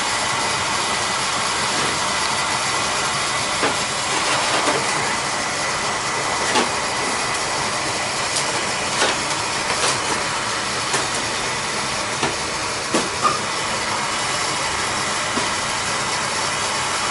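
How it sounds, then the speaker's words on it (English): An oil-fired Utica boiler, just repaired after a leak, makes steam with a steady, loud hiss that runs throughout, with a few faint clicks and ticks over the top. "Making steam with water in there, but that'll burn off."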